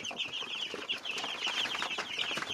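Young Foxy Chick chickens, about two weeks old, cluck and peep busily on a village farm, a steady chorus of chirps with scattered louder calls and no talking.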